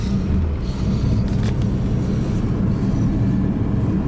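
An Audi 80 driving on the road, heard from inside the cabin as a steady low engine and road rumble with no breaks.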